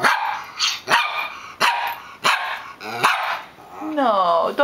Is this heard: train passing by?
no